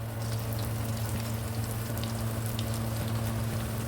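Balls of squash (kalabasa) sizzle steadily in hot oil, making a dense, even crackle with a constant low hum underneath and no talking.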